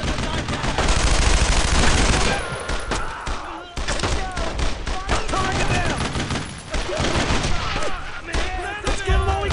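Gunfire in the World War II video game Brothers in Arms, dense bursts of rifle and machine-gun shots crackling continuously and loud, with soldiers shouting between volleys.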